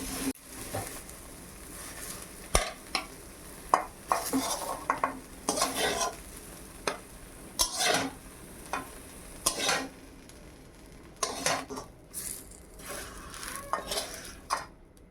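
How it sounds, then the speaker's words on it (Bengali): Flat beans fry in a pan with a little oil while a utensil stirs them, giving a steady low sizzle under repeated scraping clinks and knocks close by, with no talking. "সিম আছে ভাজছি আর কি।"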